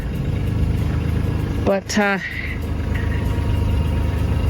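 A tractor engine idles steadily at close range, a constant low rumble running throughout while a person speaks briefly over it.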